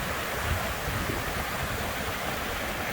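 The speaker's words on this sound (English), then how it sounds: "just a nice view of the stream and the water flowing in" Water of a creek flowing near a hiking trail beside a highway, a steady broadband rushing hiss that stays constant and fairly close, with no voices or other distinct sounds on top.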